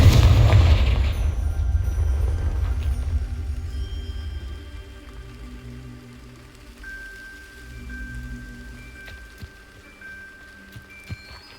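A Confringo blasting spell explodes in the Hogwarts Legacy video game: a loud, deep boom at the start that fades into a crackling, rumbling tail with faint game ambience and a few later small impacts.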